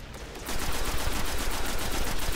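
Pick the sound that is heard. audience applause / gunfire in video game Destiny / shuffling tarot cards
gunfire in video game Destiny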